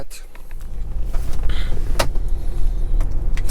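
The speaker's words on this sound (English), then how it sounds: "I'll just drive it a little bit" A 2006 Mercury Grand Marquis LS drives at low speed with a steady, loud engine and road rumble, a few clicks and knocks, and some talk over it.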